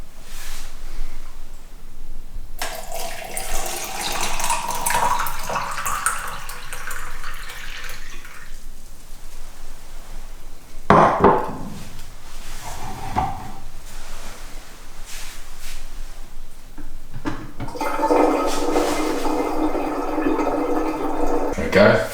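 Elderflower tea is poured through a strainer into a Pinter brewing keg, a steady splashing trickle running in several bursts with short pauses, close and fairly loud.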